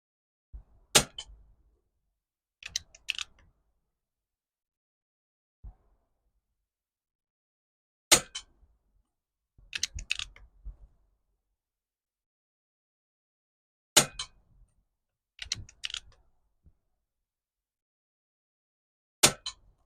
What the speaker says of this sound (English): so I'll have 5 shots at 30-yard with the QYS and see how we get on